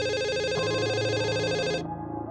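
A telephone rings as a sound effect in a horror story about a babysitter, a loud sustained electronic ring that shifts pitch midway and stops sharply, alone without voices.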